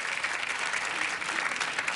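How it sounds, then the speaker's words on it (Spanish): Steady, dense clapping from a television studio audience at a beauty pageant show, an unbroken wash of applause at even volume throughout. "Que se escuche por favor el aplauso para Mariana."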